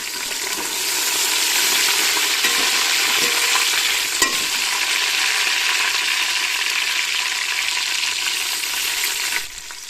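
A steady, bright sizzle of onions and garlic frying in a pan, with faint stirring scrapes and a single clink partway through, close and even throughout.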